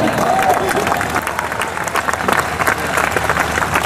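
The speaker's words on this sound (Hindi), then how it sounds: "तालियां बजा सकते हैं आप।" A crowd at a Hindi political speech breaks into sustained applause, dense clapping filling the room at steady volume, with scattered cheers mixed in.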